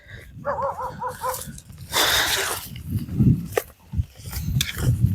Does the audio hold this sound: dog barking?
yes